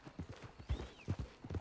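Horse hooves clip-clopping at a walk in Red Dead Redemption Online, a faint, irregular series of soft thuds with a brief distant whinny midway.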